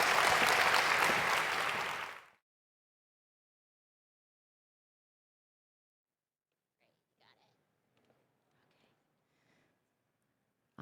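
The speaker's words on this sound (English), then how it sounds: "Let's give Teresa another round of applause." Conference audience applause at a tech inclusion main stage event, loud dense clapping for about two seconds that stops abruptly, followed by near silence with faint scattered voices.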